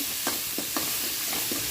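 Tomatoes and shallots sauté in a pan with a continuous close hiss, overlaid by a regular series of soft scraping stirs about every quarter second.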